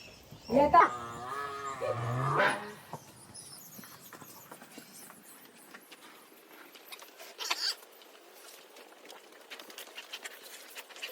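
A buffalo on a village farm gives a loud, drawn-out low near the start, then the scene fades to quieter background with scattered faint knocks and rustles.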